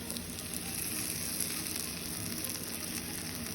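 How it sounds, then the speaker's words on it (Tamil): Potato slices fry in hot oil with a steady, close sizzle and fine crackle that runs evenly throughout, with no voices. "எண்ணெயை விட்டு அது ஃப்ரை ஆனோடனே அடுத்த பக்கம் திருப்பி போடணும்"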